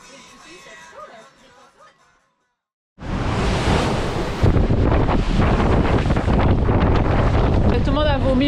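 Wind and waves on Bras d'Or Lake aboard a sailboat: after a few quiet seconds, a loud gusting roar buffets the microphone over continuous surf and splashing water.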